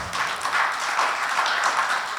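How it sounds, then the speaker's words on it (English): An audience at an emergency preparedness meeting claps together in a brief, dense burst of applause that stays fairly loud and even throughout. "let's give an applause to all these people"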